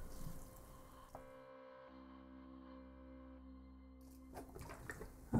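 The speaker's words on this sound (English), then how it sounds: "Okay, give those a water." Water poured over young spring onion plants in small pots indoors, a faint, steady trickle lasting a few seconds in a quiet room.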